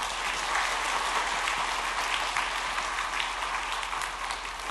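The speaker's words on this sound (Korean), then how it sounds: "우리 인사하고 들어갈 때 박수로 축복하겠습니다" A church congregation applauding during a Sunday afternoon service, steady sustained clapping from many hands that fills the room evenly for several seconds with no voices above it.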